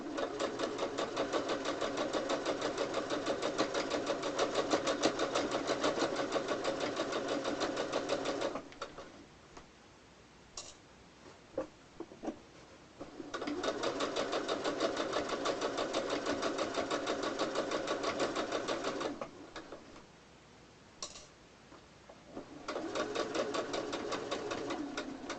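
Sewing machine stitching a pillow made from tea towels, a steady, rapid mechanical whirr in two long runs of about eight seconds each, split by a quiet pause with small clicks, then a brief final burst.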